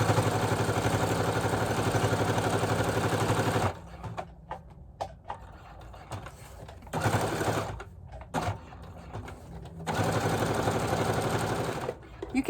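A sewing machine runs a long 5.0 stitch through fabric for a junk journal, chattering loudly in three sustained bursts separated by quiet pauses filled with small handling clicks.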